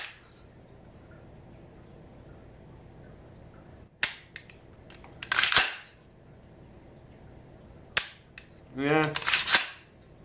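Sharp trigger clicks from a Palmetto State Armory 10.5-inch AR pistol fitted with the PSA EPT enhanced trigger, two separate pairs of crisp, close snaps a few seconds apart, with a brief spoken word.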